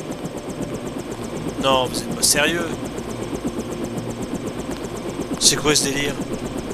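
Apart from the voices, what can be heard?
helicopter in video game Deus Ex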